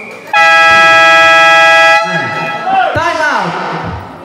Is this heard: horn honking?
yes